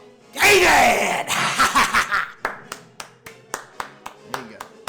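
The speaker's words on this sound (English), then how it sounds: "Okay, you got your applause." A few podcast hosts clap, starting as a burst of mixed clapping and laughter that thins into a slow run of single, evenly spaced claps, close to the microphone.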